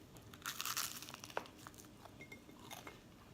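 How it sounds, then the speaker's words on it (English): Crisp crunching and crackling from biting into toast topped with cherry jam, a dense burst followed by a few softer crunches, close up with no talking. "It's very crunchy"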